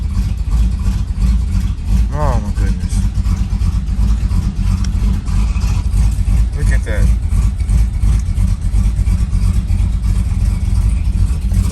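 A Third Gen Camaro engine idles loudly and roughly on first start, shaking with a low rumble close by, while a person talks briefly over it.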